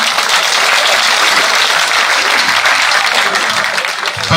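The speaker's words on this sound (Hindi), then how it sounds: "एक बार जोरदार तालियां हो जाएं।" Loud crowd applause at an outdoor village political rally, dense continuous clapping for about four seconds with no talk over it.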